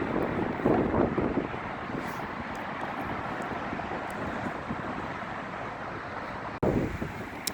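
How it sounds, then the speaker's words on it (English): Strong wind gusting outside Soldier Field in Chicago, a loud, continuous roar buffeting the microphone with a brief dropout and renewed burst near the end. "It's really windy right here"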